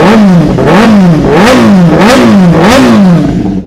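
A 2023 superbike with an Arrow full-system titanium exhaust, revved hard close up in repeated rising and falling sweeps, about four blips in a loud, continuous roar with no talking.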